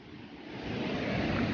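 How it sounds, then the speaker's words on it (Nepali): Strong wind roars in a steady, building rush beside a mountain river near Trilokinath on the road from Manali, broadband and close, with water noise blended in and no voices. "हावाहुरी चलिरहेको छ एकदम"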